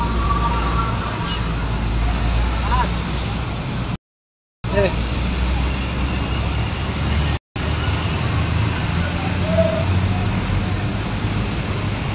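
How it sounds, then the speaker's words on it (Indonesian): Congested traffic idling and crawling at a car crash site on the Transyogi road, a steady roadway rumble with passing engines throughout, briefly cut out twice, with a voice talking over it. "Kendaraan masih mengalami kemacetan di titik lokasi kejadian ini"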